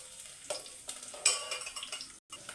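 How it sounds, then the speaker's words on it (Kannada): Onion tempering in hot oil in a pan for spicy chicken sukka: a soft, faint sizzle with intermittent scraping and clinking stir strokes, ending in a brief pause. "ಈಗ ಇದಕ್ಕೆ ಒಗ್ಗರಣೆಗೆ ಹಾಕ್ಕೋಬೇಕು"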